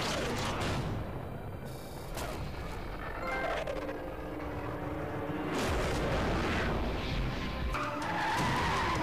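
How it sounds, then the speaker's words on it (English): Car tires skid and squeal during a race stage of the NFS The Run racing video game, a loud continuous rush of engine and tire noise with swelling screeches and no talk. "But a little bit wide, around the apex, and finishing that stage comfortably."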